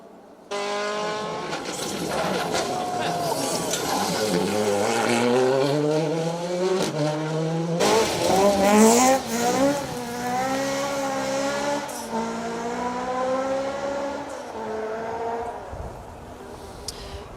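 Rally cars, including a Ford Escort, racing flat out along a BTRDA rally stage at the Trackrod Rally, with engines revving hard, pitch sweeping up and down through gear changes and a second loud pass close by.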